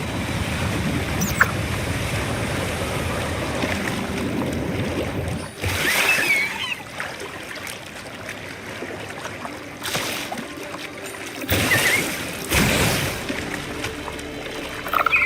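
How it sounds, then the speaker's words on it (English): A waterfall in the Wuthering Waves video game: a steady broadband rush of falling water that runs the whole way, with brighter surges and breaks where other game sounds cut in. "Another waterfall."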